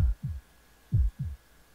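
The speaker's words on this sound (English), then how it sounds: "It was my own heartbeat echoing through my ears." Heartbeat sound effect from the Fate/Stay Night visual novel: two pairs of deep, muffled lub-dub thumps, close and loud, with a quiet pause between the pairs and no voices.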